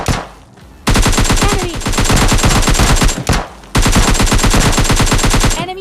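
Rapid automatic gunfire from a video game shooter rattles out in two long, loud bursts separated by brief gaps, each a dense rhythmic stream of close shots, with no speech.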